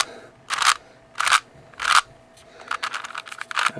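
A ShengShou 4x4 Version III puzzle cube is turned by hand, close up: several distinct crisp clicking turns, then a faster flurry of smaller clicks toward the end.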